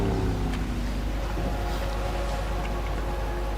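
Boat in Max Payne 3 drifting in after its engine is cut, a low steady rumble with soft water and wind wash and faint scattered splashes, fairly quiet and without talk.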